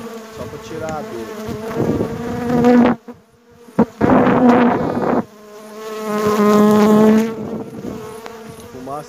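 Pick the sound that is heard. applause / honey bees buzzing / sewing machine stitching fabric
honey bees buzzing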